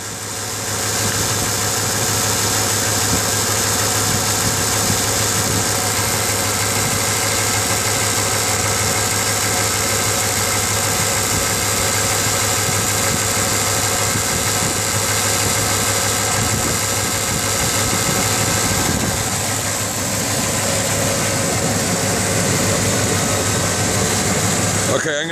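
A knocking truck engine idles loudly and steadily for the whole stretch, a dense continuous rumble with a constant low drone and faint rhythmic ticking underneath.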